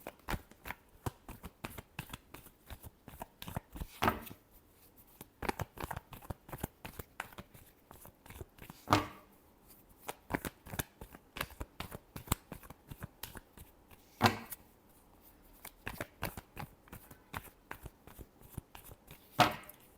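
Tarot cards shuffled by hand in a quick, steady run of crisp riffling flicks and soft slaps, close and fairly quiet, with a few louder bridge-like snaps spaced through the stretch.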